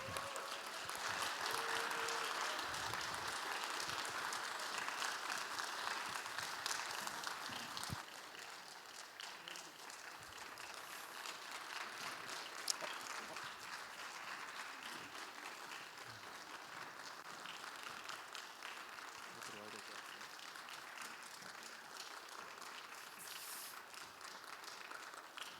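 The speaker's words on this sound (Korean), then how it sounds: "큰 박수 부탁드립니다." A church congregation at a Sunday youth worship service applauds continuously, loud sustained clapping that eases slightly partway through and carries on steadily for the full stretch.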